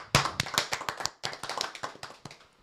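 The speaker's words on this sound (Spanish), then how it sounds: "señores, un aplauso" A small studio audience claps for a church-themed show, giving a sparse, uneven patter of individual handclaps close by that briefly pauses and then resumes for a couple of seconds.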